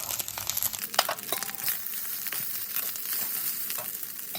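Egg fried rice for a Thai-style restaurant dish sizzling hard in a pan over a high flame, a steady broadband crackle close by, with a few sharper scrapes and tosses early on and no talking.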